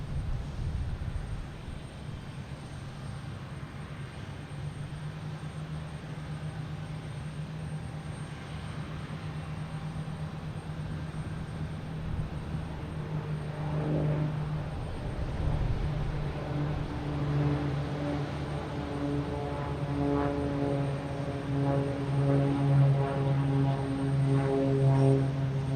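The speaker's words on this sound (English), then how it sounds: "Next Cape Air taking off, it's heading to parts unknown." Cape Air propeller plane taking off at Boston Logan Airport, a steady droning engine building gradually in loudness and pitch over about twenty-five seconds, heard from a distance without speech.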